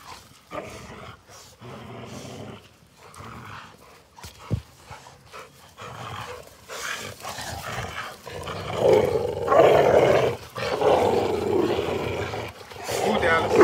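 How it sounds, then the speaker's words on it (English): Two young dogs growl and snarl at each other while playing, with rough throaty rumbles and panting that grow louder and more continuous toward the end, and a person talks over them. "They don't get mad, they growl, but they don't bite each other."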